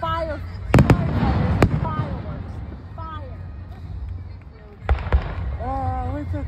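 Fireworks bursting at a 4th of July show in Lewiston/Auburn, Maine, with a few sharp booms and crackles over steady crowd chatter and nearby voices talking throughout.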